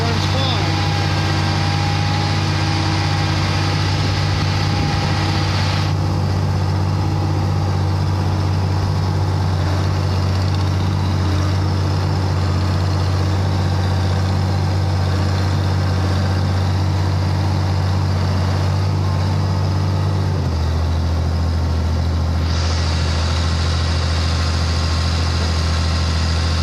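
A White 2-70 tractor engine idles steadily after a cold start, a loud, continuous low diesel rumble that holds even for about twenty seconds, then drops to a slightly lower idle note, with some faint background hiss.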